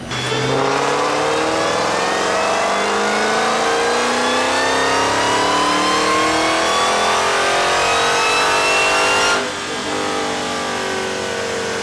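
A Dodge Hellcat strapped to a dyno revs hard, its engine note climbing steadily and loudly for about nine seconds before cutting off abruptly to a low idle.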